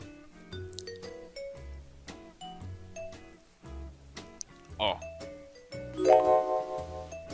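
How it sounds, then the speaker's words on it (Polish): A doorbell chimes a repeating multi-note ding-dong melody, bright and ringing, with a louder cluster of tones near the end. "Uwielbiam ten dźwięk tego dzwonka."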